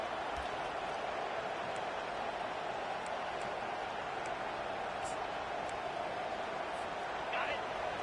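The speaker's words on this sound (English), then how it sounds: "Now the crowd responding in the red zone, trying to help this defense." Crowd noise at a football game between Oregon and Tennessee swells as the home defense is backed up in the red zone, a dense, steady stadium roar running throughout, with faint commentary over it.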